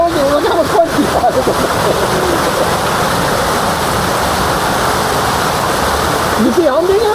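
A waterfall at a Maui pool pours in a constant, loud rushing splash close by, with a voices squealing and calling out briefly at the start and near the end.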